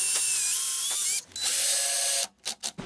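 A power drill bores a hole through the fence of a wooden miter sled clamped to its base, a loud steady whirring grind lasting about two seconds, then stopping with a few short bursts as it winds down.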